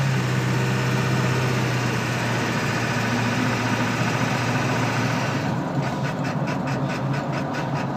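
A Ford 7.3 diesel truck engine pulling up to speed while driving, a steady loud low drone with a rising pulsing rhythm in its final seconds, no talking.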